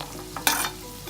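Red chili and capsicum hit a pan of browning onions for Indian-style macaroni, a quick close stir and scrape over a soft sizzle, with no talking.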